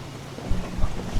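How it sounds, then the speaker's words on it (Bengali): Heavy rain hisses outside a tea stall on a wet day while low thunder rumbles in two short, close swells. "বাইরে বৃষ্টি শব্দ বেশ ভালোই আসছে"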